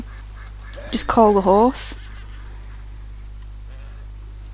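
A duck quacks in Red Dead Redemption 2: a quick run of nasal, honking quacks, clear and fairly loud over a steady low hum, with someone speaking over them.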